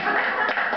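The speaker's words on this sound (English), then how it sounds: "I just graduated acting school, so clap for me now." A comedy club audience claps for a stand-up comedian in a brief, dense burst of hand claps that stays fairly loud for under a second.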